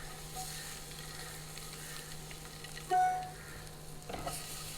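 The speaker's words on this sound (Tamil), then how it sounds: "மசாலா போட்டு ஒரு 2 பக்கம் ஒரு 2 நிமிஷம் பரட்டினீங்கன்னா போதும்." Boiled eggs stir-fried with masala in a pan give a steady low sizzle with occasional scraping stirs and a brief louder clatter near the end, no voices.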